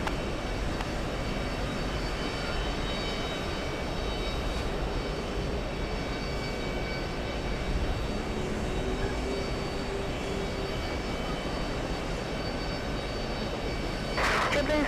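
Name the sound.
jet airliner taking off at JFK airport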